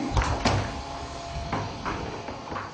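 A heavy State House door opens with a few dull thumps and a soft scrape, recorded close in an indoor space.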